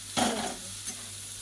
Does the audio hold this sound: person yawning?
no